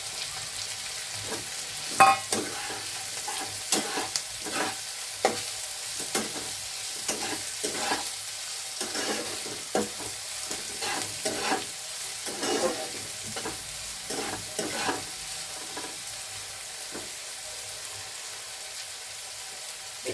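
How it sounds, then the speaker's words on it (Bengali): Chopped onion fries in oil for soya chunk keema, sizzling steadily under many quick, irregular spatula scrapes and taps against the pan. "এবারে এই চপ পেঁয়াজটা দিয়ে দিলাম।"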